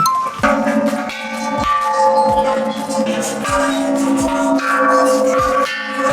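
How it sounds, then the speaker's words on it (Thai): Repeated metallic temple bell strikes ring out in a steady series, each with a bright, lingering tone, loud and fairly close with no talking. "โอเคได้ยินเสียงระฆัง"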